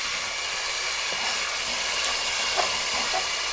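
Spices roasting in a pan for a chicken and white lentil curry give off a steady, close sizzling hiss that holds evenly throughout, with a few faint clicks on top and no talking.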